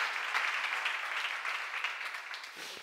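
Seminar audience clapping together in sustained applause that stays steady for a few seconds and then fades slightly near the end.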